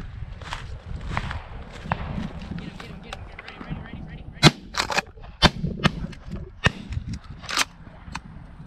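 Several sharp shotgun blasts ring out at a pay dove shoot in a field, irregularly spaced in the second half, some near and loud, others fainter, following earlier footsteps and shuffling, with people talking between shots.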